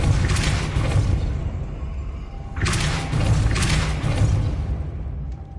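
Two bursts of the Depulso spell from a Harry Potter game, each a broad whooshing blast with a low thudding body, the first fading out before a second, denser surge follows; no talking.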